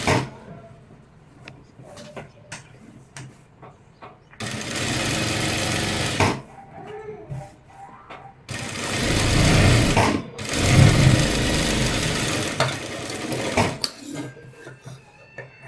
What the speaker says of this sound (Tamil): இந்த ஆஃப் இன்ச்சை அப்படியே நான் தையல் போட்டு எடுத்துக்கிறேன்